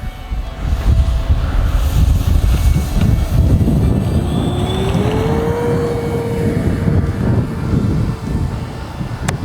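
A Black Horse Heinkel He-111 radio-controlled model airplane with a 1750mm wingspan roars through its takeoff, its loud, steady engine drone mixed with heavy wind buffeting and a rising whine partway through.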